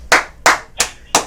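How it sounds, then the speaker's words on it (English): Four sharp hand claps at an even, slightly slow pace, close and loud with no voices, set during a casual smoke-break chat show. "give her a round of applause"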